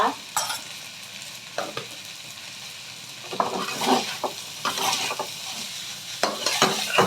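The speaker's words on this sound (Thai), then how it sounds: "ก็เคล้าทุกอย่างให้เข้ากันนะคะ" A spatula stirs and tosses fried rice with naem fermented pork and fresh chillies in a sizzling pan, giving irregular scraping clatters over a steady frying hiss.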